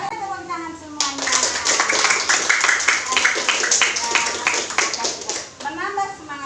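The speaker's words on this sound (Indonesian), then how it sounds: "Saya tepuk tangan semuanya." A class of students claps together in a classroom, a burst of dense, lively group clapping of about four and a half seconds, with a teacher's voice before and after.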